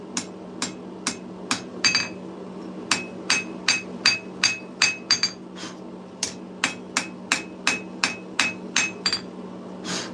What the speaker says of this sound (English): Right now I'm still planishing for the most part.